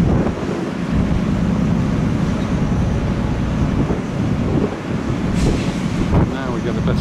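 Wind buffets the microphone over the rush of waves as a cruise ship, the Aida, sets sail; the noise stays loud and continuous throughout.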